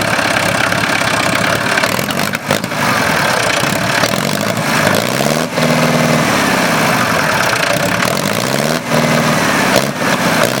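A loud, rare experimental diesel engine idles steadily, rough and low-pitched, with a slight rise and fall in revs partway through; no talking.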